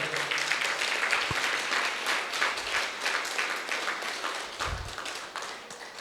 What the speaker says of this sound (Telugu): అద్భుతంగా భోజనాలు తయారు చేసి వడ్డించిన మాస్టర్స్ అందరి కోసం గట్టి క్లాప్స్ కొడదాం